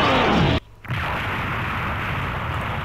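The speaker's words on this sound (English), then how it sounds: "So it doesn't make that big of an explosion, but it still creates a lot of damage." A loud, continuous game explosion roar from an energy blast in a Minecraft Dragon Block C mod, briefly cutting out partway through, then surging back and sustaining without speech.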